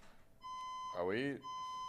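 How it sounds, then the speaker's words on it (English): A fire alarm beeps as a steady high electronic tone, pausing briefly while a person speaks over it, then resuming. "Is that a fire alarm?"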